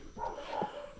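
A dog barks a few times in a short, yelping burst at moderate distance near a house along a forest road in Pembroke, Tobago, with alarms sounding in the area; no voices are heard.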